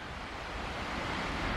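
Waves wash onto the shore at Utah Beach in Normandy in a steady surf rush mixed with wind buffeting the microphone, building slightly louder toward the end.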